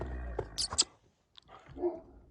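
A dog gives a few short barks and yips close by, with a brief quiet gap and some faint talking.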